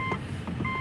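Electronic warning chimes from a car dashboard as the ignition key is turned, a quick pair of clear beeping tones within under a second.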